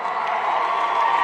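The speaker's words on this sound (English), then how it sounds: "Give yourselves a big round of applause." A large rally crowd in Cedar Rapids, Iowa cheers and applauds, a loud continuous roar of voices and clapping with whoops mixed in, filling the whole short stretch without a break.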